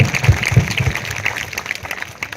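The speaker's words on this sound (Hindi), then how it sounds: "उनकी जोरदार तालियां जरूर बजती रहेंगी" Audience claps together at a job fair event in Lanji, a loud burst of hand claps that is strong at first, then thins into scattered softer clapping.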